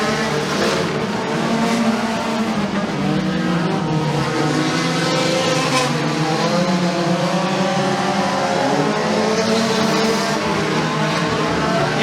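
Race cars circling Bradford Speedway during a heat race, a continuous loud roar of engines with rising and falling revs and tire noise, close and dense throughout.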